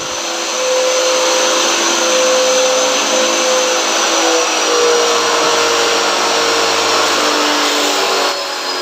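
A coin-operated car wash vending machine runs its pump or blower with a loud, steady drone that holds level for about eight seconds, with no talking.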